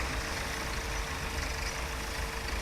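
Tractor engine in Farming Simulator 17 running steadily for the whole stretch, a continuous heavy low drone with a faint constant whine above it, even in loudness and with no voices.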